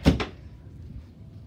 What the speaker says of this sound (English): Maybe we should close this door.